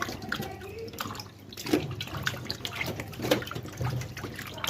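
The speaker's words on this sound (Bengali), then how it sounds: "ভালো করে দু তিনবার এমনি ধোবো লাস্টে একটু নমক মাখিয়ে ভালোভাবে ধোবো" Raw sheatfish being washed by hand in water in a home kitchen, with close sloshing, splashing and trickling under soft rustling, continuous and fairly quiet.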